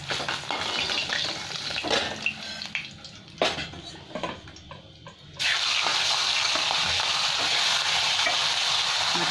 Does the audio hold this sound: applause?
no